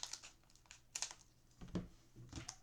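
Scissors snipping open an Elestrals Hermes blister pack, with faint, close clicks and crinkles of plastic packaging in a few scattered bursts.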